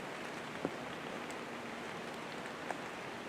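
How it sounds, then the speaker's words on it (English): Steady, soft rain falls in the Ohio woods in late October, a fine continuous patter with a couple of slightly louder drops tapping close by, alone and quiet. "It's a little rainy here and wet."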